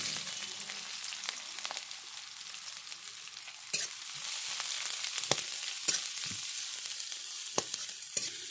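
Chopped onions and green chillies frying in hot mustard oil in a kadai, a steady close sizzle with occasional sharp scrapes and stirring clinks, no talking.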